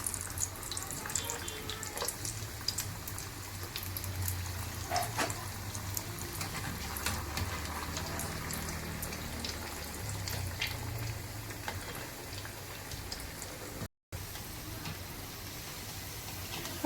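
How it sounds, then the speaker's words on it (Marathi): Malai kofta balls frying in hot oil give a steady soft bubbling sizzle with faint crackles throughout, close up and fairly quiet, with a brief drop to silence near the end. "आपण एक एक करून सगळे कोफ्ते तळून घेऊया."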